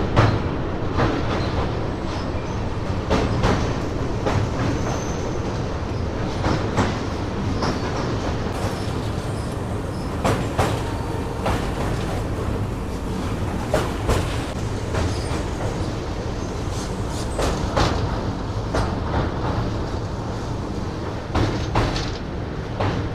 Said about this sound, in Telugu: సో ఇక్కడ వచ్చేసి మన ట్రైన్ వచ్చేసి ఫుల్ కర్వ్ అయితే తీసుకుంటుంది